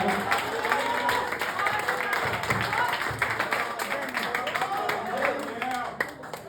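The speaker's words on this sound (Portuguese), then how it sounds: "Uma salva de palmas para Jesus." A church congregation applauds in a dense, sustained clapping roar that fills the room for several seconds, with voices mixed in and the clapping thinning slightly at the end.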